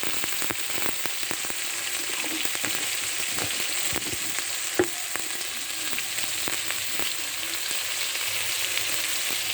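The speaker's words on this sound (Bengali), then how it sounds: "ভালোভাবে আমি কাঁকড়া কষিয়ে নেব" Crab pieces coated in salt, turmeric and chili powder sauté in hot oil, a loud continuous sizzle with frequent crisp crackles and light stirring clicks throughout.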